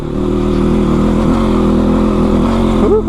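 A motorbike engine held at high revs as it strains up a steep climb, loud and close with a steady, labouring drone for the whole stretch and no talking.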